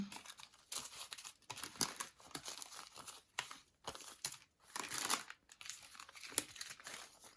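Small plastic diamond-painting bead packets crinkle and rustle close by in repeated bursts, handled one after another with brief pauses, faint and crisp.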